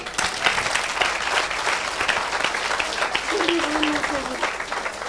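A church congregation claps in a dense, continuous burst of applause that fills the room, with a voice calling out over the clapping.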